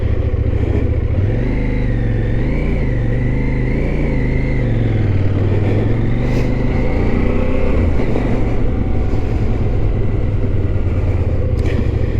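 A CFMoto Ibex 800 adventure motorcycle engine revs loud and close on slick terrain, its pitch rising and falling continuously for several seconds with a steady rumbling drone.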